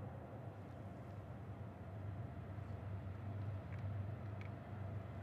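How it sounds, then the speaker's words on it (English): A train passes at a distance near the Mississippi River, a faint steady low rumble that swells slightly midway, with a few soft clicks above it and no speech. "I bet they can hear that train."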